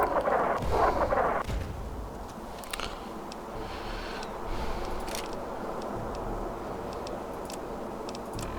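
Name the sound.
missiles flying and exploding in video game Fallout 3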